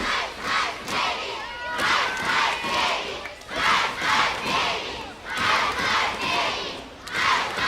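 A wrestling arena crowd chants "Ice, Ice, baby" in a loud, rhythmic, repeating cadence, each chant rising and falling in regular waves across the whole stretch.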